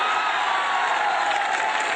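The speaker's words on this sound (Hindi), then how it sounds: "तालियां तो अब उठेंगी" Applause and cheering from the audience of a Hindi comedy show: a dense, continuous wash of clapping and crowd noise at a steady level.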